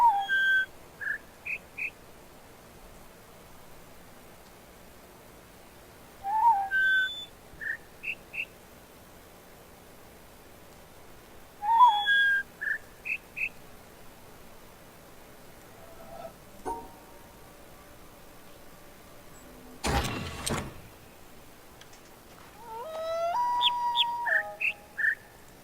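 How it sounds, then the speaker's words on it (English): Synthetic birdsong phrases from the video game The Witness recur in short whistled bursts every few seconds, with a louder burst of noise and rising chirps later, fairly quiet and without voices. "So I don't think we actually want the birdsong here."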